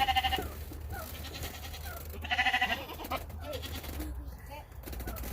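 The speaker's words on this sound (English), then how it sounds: "one of the sheep is on the roof. I'm just saying, and it's loud." A sheep at a goat rescue bleats loudly in two strong calls, the first at the start and the second midway, over low background noise and voices.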